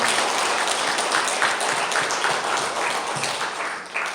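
Church congregation applauding together during a Korean worship service, a steady, dense wash of clapping that holds for a few seconds before tapering slightly at the end.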